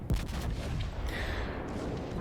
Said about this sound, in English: Fired shots off there, finished off that Fubuki.